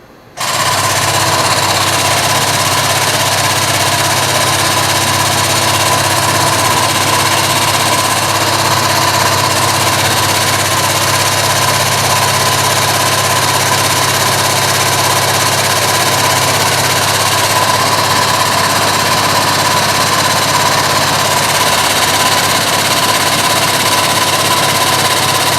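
A pump motor running steadily to build hydraulic pressure for a cylinder, a loud, constant mechanical drone with vibration that starts abruptly and holds unchanged for about twenty-five seconds, no talk.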